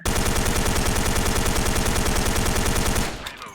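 Sustained automatic fire from a K2 rifle in the online shooter Special Force 2: a loud, dense, rapid stream of shots lasting about three seconds, then cutting off abruptly, with no voices over it.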